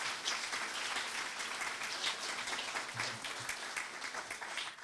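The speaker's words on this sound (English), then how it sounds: "We can give them a big round of applause." An audience at a leadership contest debate in Charlottetown applauds steadily, a dense wash of clapping from a roomful of people that holds at even loudness throughout.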